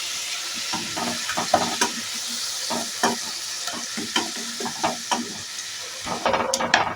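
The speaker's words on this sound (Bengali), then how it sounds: "আদা রসুনের কাঁচা গন্ধটা যাওয়া অবধি কিন্তু এই মশলাটা কষাতে হবে" Ginger, garlic and green chilli paste frying with masala for a mutton curry, a close steady sizzle punctuated by repeated rhythmic spatula scrapes against the pan, growing busier toward the end.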